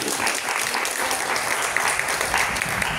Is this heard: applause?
yes